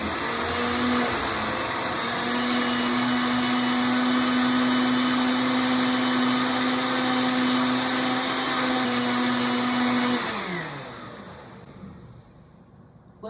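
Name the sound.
blender blending clafoutis batter with flour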